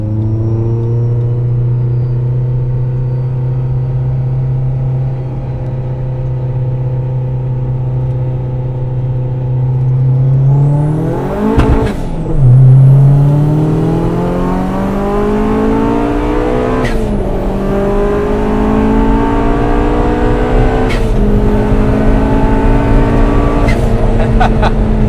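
Turbocharged car with 370 horsepower at the wheels lapping the Nürburgring, heard from inside as a loud, steady engine drone that climbs through the gears, with sharp shift breaks and rising revs.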